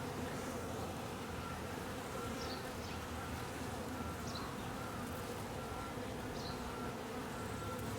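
Around a hive entrance, a dense cloud of honeybees keeps up a steady, even buzz, with a few individual bees zipping past close by. No voices are heard.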